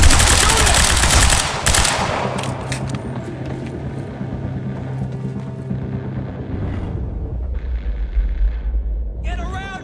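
Dense, rapid gunfire rattles through a Quantum Break firefight, bursts of automatic fire layered with heavy low rumble and impacts, sustained for several seconds before easing off, with a sharp crack near the end.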